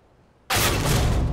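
A grenade going off in Counter-Strike: Global Offensive, a sudden loud broadband blast after half a second of near quiet, sustained and roaring to the end.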